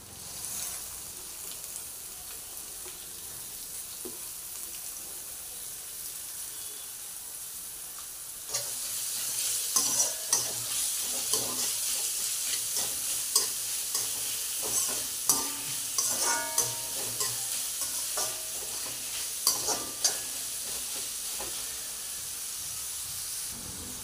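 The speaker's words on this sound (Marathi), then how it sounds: "आता आपण याच्यामध्ये कांदा टाकूया उभा चिरलेला, इथं परतून घेऊया" Sliced onions drop into a red paste on a hot pan for street-style tawa pulao. The quiet hiss swells into loud, continuous sizzling, with repeated close clinks and scrapes as they are stirred.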